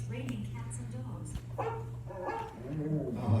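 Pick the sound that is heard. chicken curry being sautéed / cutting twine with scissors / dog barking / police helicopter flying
dog barking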